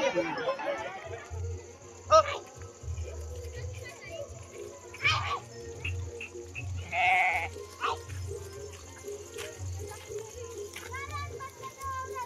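A sheep bleats a few times amid children's chatter and voices nearby, with a steady low hum underneath.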